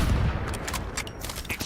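Gunfire trades back and forth in a video game combat scene, a dense burst of sharp shots and blasts layered over a constant rumble, loud and busy with no voices.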